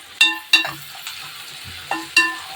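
Onions sautéing in a pan, with several sharp metallic clinks from a spatula striking the pan over a faint, steady sizzle.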